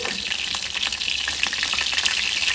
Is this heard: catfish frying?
yes